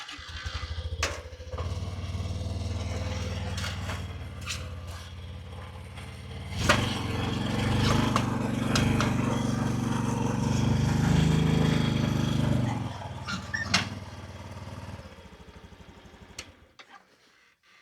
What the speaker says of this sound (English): now we'll push the Trail 125 up on here, which will be easier to motor it up